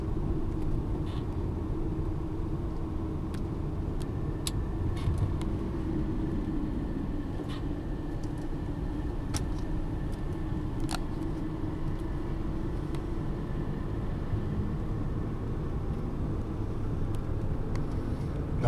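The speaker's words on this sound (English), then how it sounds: "Look at how fast the car is picking up speed." A car engine drones steadily on a mountain road with hairpin turns, a continuous near rumble with road noise and occasional faint clicks, no talk.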